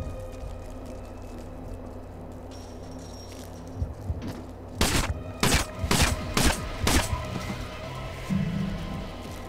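Gunfire from an enemy being gunned down in the Manhunt video game: several sharp, loud shots in quick bursts near the middle, over a low ambient hum with no talking.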